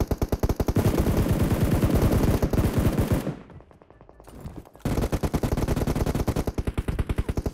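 Rapid automatic gunfire in the mobile battle royale game PUBG Mobile: loud, close bursts of fast repeating shots, a brief lull midway, then the fire resumes.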